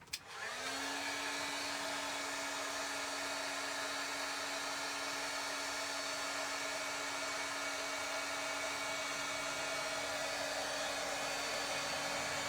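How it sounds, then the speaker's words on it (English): A heat gun blows hot air to set embossing powder on card, making a loud, steady whirring roar close by. It starts with a click and runs continuously to the end without any voices. "I will just heat emboss this."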